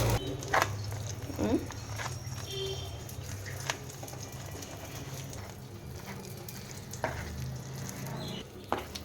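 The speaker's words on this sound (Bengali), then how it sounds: "তেলটা গরম হয়ে এসেছে, তো চলো ডিমটা দিয়ে দিই। একসঙ্গে দুটো অমলেট করে নিচ্ছি" Eggs fry in hot oil for two omelettes in a home kitchen, a steady low sizzle with occasional clinks and scrapes of a utensil, birds faintly cooing in the background.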